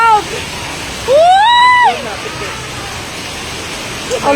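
Sea waves surge and splash in a rushing, noisy wash close by, with a voice crying out and whooping over the water partway through.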